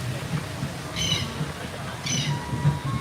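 Two short, high bird calls sound in the distance, about a second apart, over a low background rumble, at Animal Kingdom, Walt Disney World.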